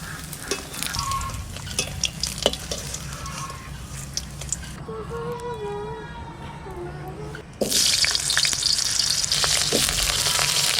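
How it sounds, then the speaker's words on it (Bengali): Cauliflower, paneer and potato frying in white oil in a kadai, a busy crackling sizzle with stirring scrapes that fades to quieter bubbling midway, then bursts back loud and dense as more food hits the hot oil. "আগে আগে ফুলকপি, পনির, আলু সবকিছু আমি ভেজে নেব।"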